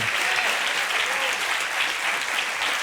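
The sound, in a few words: congregation applause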